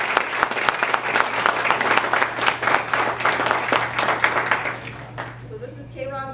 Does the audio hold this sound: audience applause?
yes